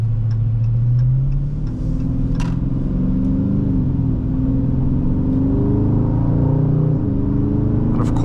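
A 2022 Dodge Charger Scat Pack with its 392 V8 hums steadily under light load while driving, a continuous low engine drone with gently rising and falling tone, close and loud throughout.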